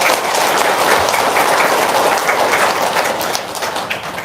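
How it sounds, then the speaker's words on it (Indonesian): An audience at a talk claps together in a sustained burst of dense, crisp applause that fills the room, gradually thinning toward the end, with no voices over it. "Tepuk tangan dulu dong."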